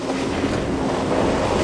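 A 2020 Suzuki Jimny Sierra strains up an off-road hill climb at full throttle, its engine a loud, steady droning roar mixed with rumbling tyre and gravel noise as the rear wheels slip.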